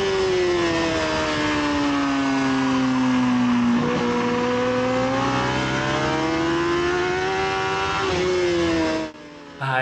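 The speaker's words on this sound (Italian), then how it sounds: "è una Moto 3 e il pilota è Alberto Surla, mondiale Moto 3." Moto3 racing motorcycle on a track, its high-pitched engine howling loud and close, pitch dipping and rising through gear changes and corners, then cutting off abruptly near the end.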